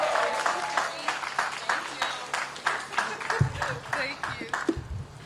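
Sparse, patchy clapping from a small audience at an elementary school ribbon-cutting ceremony, individual claps audible as speech picks back up near the end.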